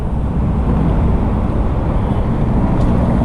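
Traffic noise near bridges along the Maricopa Trail in the Arizona desert, a steady, dense low roar of passing vehicles mixed with wind buffeting the microphone.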